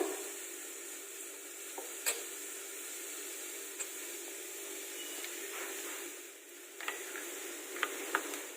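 Coconut oil bubbling in a pan over a gas stove, a faint steady sizzle and hiss with occasional small pops and ticks, heard alone without talk.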